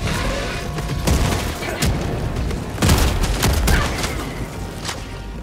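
A thrown grenade goes off in the middle of steady gunfire in Helldivers 2. Sharp, booming blasts stand out above a loud, constant barrage of shots.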